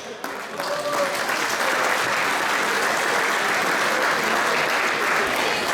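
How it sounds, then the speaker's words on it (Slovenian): Crowd applause breaks out for a brass band and majorettes at the opening of an autumn agricultural and crafts fair in Komenda, a dense, steady clapping that swells quickly and holds strong throughout. "Če bo še en velik aplavz za nje, ne bo nič odveč."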